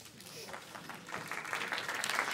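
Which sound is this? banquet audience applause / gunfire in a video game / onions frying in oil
banquet audience applause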